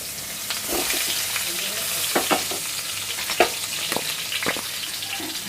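Stuffed brinjals frying in oil in a pan, a dense, steady sizzle close by, broken by a few soft stirring knocks and scrapes.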